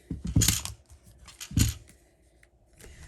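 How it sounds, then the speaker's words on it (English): Scissors trimming a small overhang of cardstock, two distinct close snips about a second apart, with faint rustling of paper between and after. "I'm going to just do a little bit of trimming"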